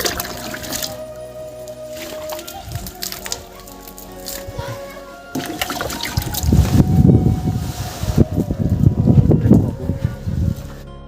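Water thrown in splashes against the wall of a small new house, arriving as a run of wet slaps and trickles in the second half, with voices and children talking throughout.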